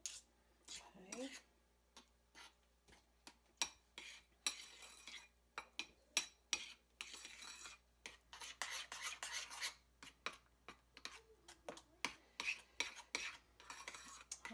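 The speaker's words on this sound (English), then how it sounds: "We'll get a spoon to help mix this together a little bit better." Spoon stirring a thin dessert batter in a bowl, giving a steady run of quick light clinks and scrapes against the bowl sides, close and fairly quiet, with a few soft vocal sounds in between.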